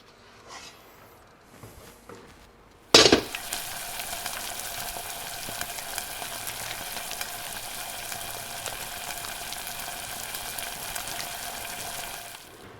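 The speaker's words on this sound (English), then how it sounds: "red wine vinegar, good glug, don't be shy. And then we're going to get this on the heat to reduce" A beef sauce with a good glug of red wine vinegar hits the hot pan with a sudden loud hiss, then settles into a steady, close sizzle and bubble as it reduces on the heat, with no talking.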